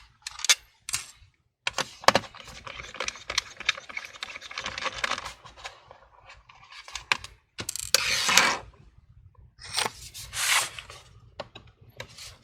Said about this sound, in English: you might want to label all the screws as you remove them